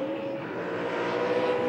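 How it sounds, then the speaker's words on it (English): A 2007 V8 Supercar engine running rough at Sandown idles with a low, uneven drone and tonal whine, heard steadily in the background for under two seconds. "Car doesn't sound too good in the background."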